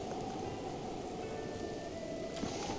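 Steady rain pours in Zelda: Breath of the Wild, a dense, even hiss of falling water with a faint tonal hum underneath, constant and unbroken over a few seconds with no talk.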